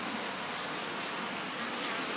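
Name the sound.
honey bees buzzing at hive entrance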